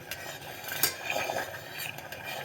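A pot of sugary ant jelly stirred with a utensil over medium heat, producing soft scraping and light clinks against the metal amid a faint background hiss, with no talking.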